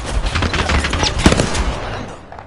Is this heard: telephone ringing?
no